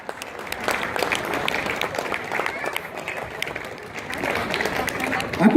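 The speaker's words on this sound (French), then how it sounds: "je vous demande d'applaudir le petit Ewen" Outdoor crowd at a Breton Pardon festival in Batz-sur-Mer gives moderate, loose applause, individual claps audible over background chatter and murmuring voices, swelling slightly at the end.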